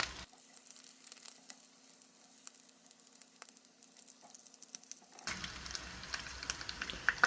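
Hamburger meat for tacos sizzles in hot oil in a pan, a faint crackling hiss with scattered pops that grows louder and denser in the final two seconds.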